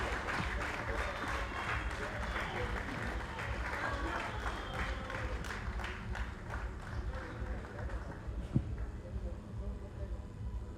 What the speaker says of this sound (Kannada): ದಯವಿಟ್ಟು ಅದೇ ಸೌಂಡಿಗೆ ನಿಮ್ಮೆಲ್ಲರೂ ಚಪ್ಪಾಳೆ.